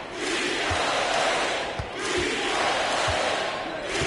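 A basketball arena crowd in the NBA 2K26 video game roars continuously during a tense playoff moment, a dense swelling cheer that dips briefly and then rises again.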